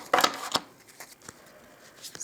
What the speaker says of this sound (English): these have been reasonably shuffled.